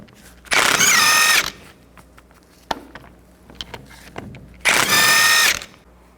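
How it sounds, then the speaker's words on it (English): Power tool with a 19mm socket removing the rear brake backing plate bolts on a 1999-2007 Chevy Silverado 2500, two loud high-pitched whining bursts about three seconds apart with quiet clicks and clanks between. "Take these bolts out, use a 19mm socket."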